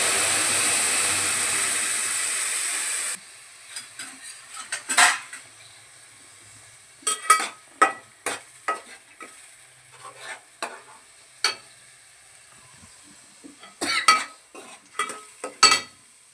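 Tomato pulp frying in a pan for a fish pullusu curry: an opening steady sizzle gives way to a series of sharp, close scrapes and clinks of a spoon stirring against the pan, in irregular bursts.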